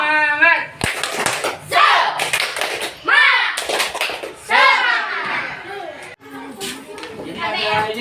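Classroom of children doing a rhythmic spirit clap in a sixth-grade science lesson, bursts of patterned hand claps mixed with kids' chanting voices, loud and close.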